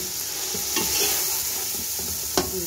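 Minced meat (keema) goes into a hot pan with tomato, chilies and salt, and a loud, steady sizzle follows. A spoon scrapes once or twice near the end, close up, with no speech.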